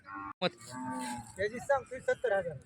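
A young bull calls out with repeated low moos at a busy cattle fair, loud and close, as other animals and faint crowd noise mix in behind.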